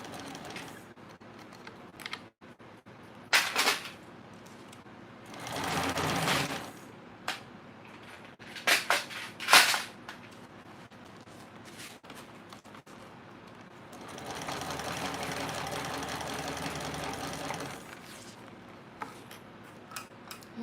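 A home sewing machine takes a few stitches and then back stitches along a seam, heard as several short, separate mechanical bursts with quiet gaps between them.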